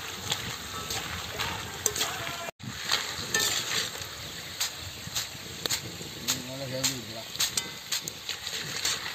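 Homemade Kurkure snack frying in hot oil, a steady crisp crackle and sizzle with scattered sharp pops throughout, and a brief voice partway through.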